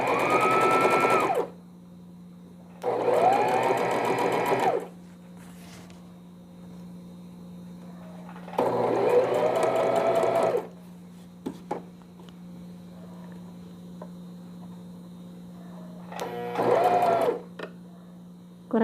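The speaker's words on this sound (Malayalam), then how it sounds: "ഒരു 2 ക്ലോത്ത് വെച്ച് സ്റ്റിച്ച് ചെയ്യുന്നത് പോലെ ചെയ്താൽ മതി" A sewing machine stitches cloth for a newborn's vest in four separate bursts of fast, whirring clatter, each lasting a couple of seconds, with quiet pauses and faint handling clicks between them.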